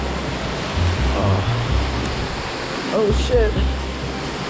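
A waterfall roars steadily inside a cave, a dense wash of falling water filling the space, while a person speaks briefly close by over the noise.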